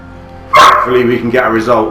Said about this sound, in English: Apologies for the dog barking.